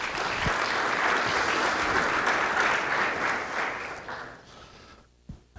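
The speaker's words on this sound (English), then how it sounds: "another round of applause for all the speakers that are going to be talking today and tomorrow" A conference audience at Loop Conf applauding the speakers, a dense wash of clapping from many hands that holds strong, then thins and fades out over the last second or two.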